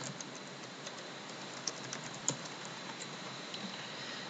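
Computer keyboard keys tapped at a steady, fairly quick pace while text is typed into an image editor, with a few sharper clicks standing out against a faint background hiss; no talking.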